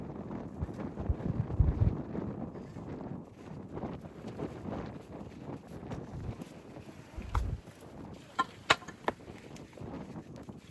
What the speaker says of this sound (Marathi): किती हवा आहे गिरनारला.